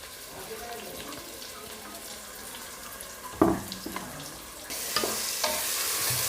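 Ground masala paste for mint biryani is sautéed in a pan, a low sizzle with scraping stir strokes and a couple of sharper clatters, followed by a steady hiss that grows brighter near the end.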